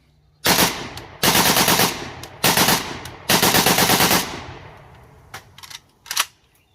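A firearm fired from the hip lets off four loud, rapid bursts of automatic fire close by, separated by short pauses and followed by a few scattered single shots.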